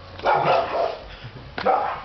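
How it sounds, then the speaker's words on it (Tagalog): A dog barks close by in two bursts, a cluster of yips and barks followed by another short bark after a pause, with indoor household background. "Ayun yung aso to, lo."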